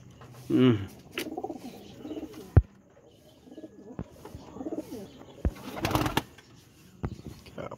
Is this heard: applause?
no